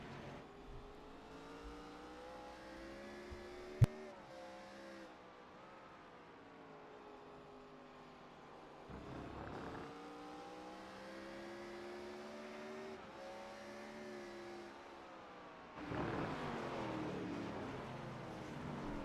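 Simulated race cars scream past at Laguna Seca in iRacing, the engines rising and falling in pitch as they go by, with a steady engine drone and a sharp click early on.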